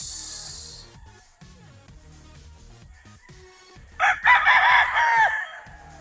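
Sweater-bloodline gamefowl roosters on a game farm, with soft clucks and scattered farm noises, then one loud, close, drawn-out rooster crow in the second half.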